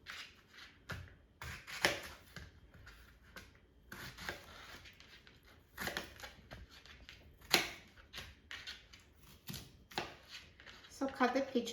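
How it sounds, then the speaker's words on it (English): A knife slices fresh peaches around the pit, giving soft irregular cutting and scraping taps against a board, faint and close, spaced unevenly with brief pauses between strokes. "So cut the peaches into slices around the pit."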